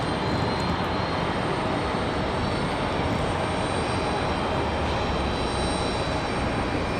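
Jet engines of a Boeing 737-800 at Raleigh-Durham International Airport, a steady, loud broadband roar that holds continuously throughout without any talk.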